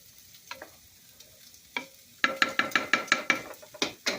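A pot of gumbo made with Heinz homestyle gravy heats toward a boil while a spoon stirs it, giving a few scattered scrapes and then a quick run of rhythmic clinks and taps against the pot, close and fairly quiet.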